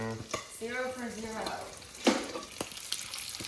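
Eggs frying in a pan for breakfast burritos, a soft sizzle with a few clicks and taps beneath a person talking.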